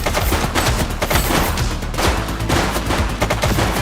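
Sustained gunfire from The Precinct, a police video game: dense, continuous volleys of shots crackle without pause for several seconds, loud and close, with overlapping bursts and no talk.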